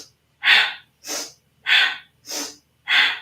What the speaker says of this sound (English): if you're used to this kind of breathing, it'll sound like this